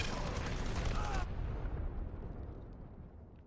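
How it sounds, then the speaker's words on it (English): Fire support explosions boom in a competitive video game match, a loud sustained rumbling blast that cuts off sharply and decays under a caster's voice. "Fire support on it."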